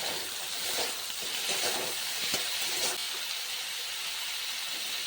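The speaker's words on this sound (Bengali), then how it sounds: "এবার আমি সিম আলু ভালো করে ভেজে নেব" Broad beans and potatoes fry in a pan with a steady, close hiss and sizzle, and faint crackles rise through the bed of noise with no one speaking.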